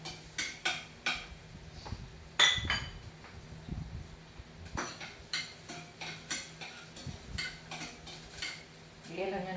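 A spoon stirring ginisang mais, sautéed corn, in a metal pot: repeated soft scraping clinks and knocks at an uneven rhythm, close and fairly quiet, with no talking.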